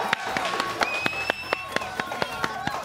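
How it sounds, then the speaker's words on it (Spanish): Audience members clap in a quick, steady rhythm during a trophy presentation on a live morning variety show, the sharp claps under background voices and tones. "Un aplauso, compañero."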